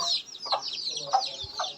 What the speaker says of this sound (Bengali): এই যে দেখেন দুইটা মুরগি একসাথে।